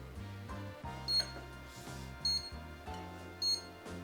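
A kitchen timer goes off while banana cream pie is being made: three short, high electronic beeps spaced about a second apart ring over a steady, low tonal background.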